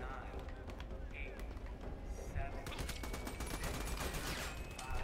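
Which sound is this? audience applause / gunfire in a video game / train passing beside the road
gunfire in a video game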